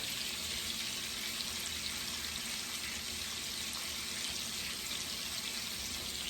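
A pot roast sears in an Instant Pot, giving a steady, loud, close sizzle that hisses without pause and with no voices over it.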